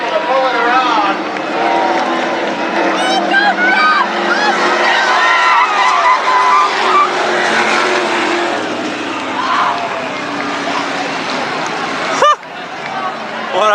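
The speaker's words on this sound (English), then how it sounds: "Big old crash right at the end of this one." Race cars roar together in a loud, continuous pack on a short oval track during a 1999 Super Sprints, Late Models and Sportsman event, with a sharp crash bang near the end and engine noise carrying on after it.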